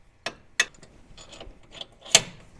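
Winch mounting bolts on a Jeep are tightened with a ratchet, a few sharp metallic clicks and clunks spaced out, close and fairly quiet.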